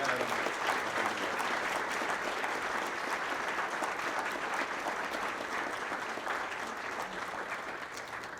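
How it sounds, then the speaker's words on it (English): Sustained, dense applause from a large crowd at a Man and Woman of the Year awards night, loud and steady for the whole stretch with no break and only a slight fade toward the end. "please, for one more round of applause for our Man and Woman of the Year, Nancy Adams."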